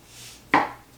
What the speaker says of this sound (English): we're just going to slice them up. Cut the ends.